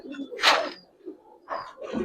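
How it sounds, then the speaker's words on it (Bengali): Jabra pigeons cooing in a breeder's collection, a few soft low calls with brief broader bursts, close by and fairly quiet with no talk. "ভাই সম্পূর্ণ জাবরা কবুতর"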